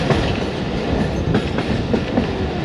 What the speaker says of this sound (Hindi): कराक्रम एक्सप्रेस दाखिल हो चुकी है साहिवाल रेलवे स्टेशन के यार्ड में।